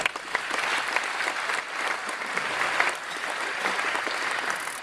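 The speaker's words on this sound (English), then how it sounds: "Give Cindy a round of applause" A live audience at a Jeopardy! exhibition match against IBM Watson applauds contestant Cindy, a steady dense wash of clapping hands sustained evenly from start to finish, with no voices rising above it.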